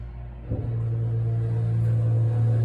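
A Kone-modernized former Otis Series 1 elevator at a high school running, a steady loud low motor hum and rumble with a brief clunk near the start, continuing evenly throughout.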